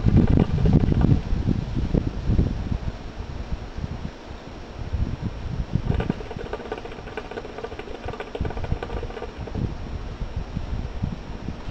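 Wind blowing outdoors on a breezy night, buffeting the microphone with rumbling low gusts that rise and fall over a steady background hum, with no voices.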